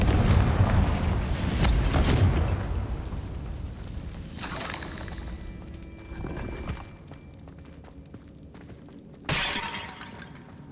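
Confringo fire spell in Hogwarts Legacy, heard as repeated sharp blasts with crackling, shattering debris: a big burst near the start, another around the middle and a final sudden crack near the end, separated by quieter rumbling decay.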